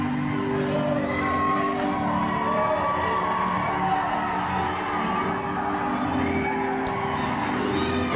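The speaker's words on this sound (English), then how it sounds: "This is that crowd, Jerry." A large crowd cheers and shouts steadily and fairly loudly throughout, a dense roar with scattered whoops and no break.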